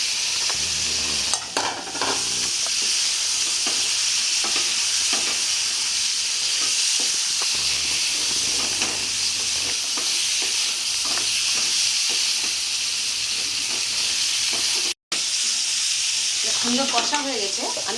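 Pointed gourd and potato go into spiced masala frying in oil for a Bengali-style soya bean curry, giving a steady close sizzle and hiss with scraping stirs throughout and no talk.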